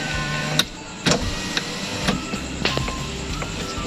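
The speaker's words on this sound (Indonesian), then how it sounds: "Power window adalah sistem otomatis yang digunakan untuk menggerakkan jendela mobil untuk naik dan turun dengan menggunakan motor listrik" Electric power window motor in a car moving the glass up and down, a dull mechanical whir heard close and alone, broken by several sharp clicks and clunks as the window starts and stops.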